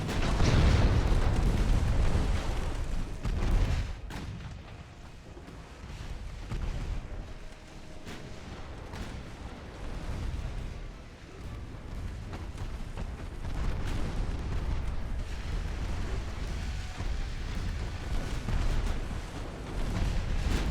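Warship 5-inch guns fire in the naval video game Ultimate Admiral: Dreadnoughts, a loud rumbling boom at the start followed by a long stretch of low, rolling distant gunfire and explosions.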